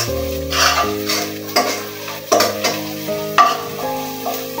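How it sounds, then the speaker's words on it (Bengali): Onions frying in a pan for biryani are stirred in repeated scraping strokes over a continuous sizzle, with steady tonal background music running underneath throughout. "তারপর আগে পেঁয়াজ গুলা ভাজা নিতেছি।"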